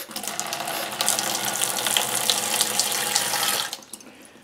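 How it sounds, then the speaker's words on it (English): Water poured into a Tupperware container over soaking rawhide, a steady splashing stream for about three and a half seconds that then stops, close and alone. "I put a little bit of water in there to act as a weight"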